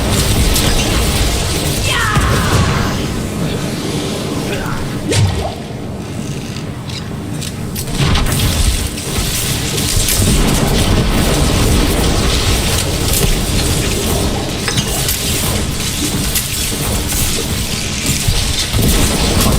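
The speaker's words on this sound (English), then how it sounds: "it's a good idea to bury all your charged bolts into him" In Diablo IV, a sorcerer's charged bolts spell crackles into the boss Perithan amid dense, loud combat noise: continuous electric crackling, impacts and rumbling booms that barely let up throughout.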